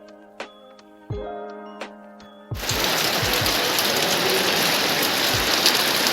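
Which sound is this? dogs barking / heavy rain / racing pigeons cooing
heavy rain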